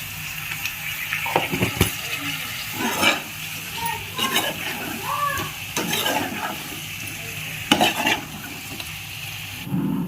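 Blood fry cooking in a pan as turmeric is added, with soft sizzling and intermittent scraping stirs of a spoon across the pan, close and moderately loud, with no talking.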